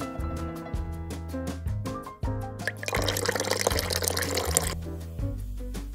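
Freshly brewed pour-over coffee is poured out to serve, a continuous liquid stream with dripping and filling sounds, close and clear, with a broader splashing surge midway.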